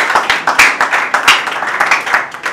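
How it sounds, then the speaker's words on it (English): Loud, close hand clapping from a small group of wedding guests, a quick irregular patter of distinct claps lasting a few seconds during the vows. "Let's clap for him."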